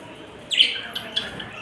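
Pet budgies give a few short chirps, one brighter call near the start followed by softer faint tweets against a quiet room background.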